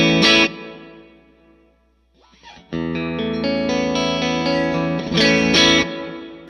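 An electric guitar plays sustained, distorted chords drenched in effects, ringing out with a lush wash before fading and swelling again.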